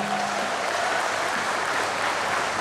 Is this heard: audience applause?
yes